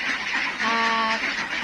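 Itik ducks penned in an enclosure on a duck farm, a close, loud burst of quacking and honking calls with one clear harsh quack in the middle amid ongoing flock noise.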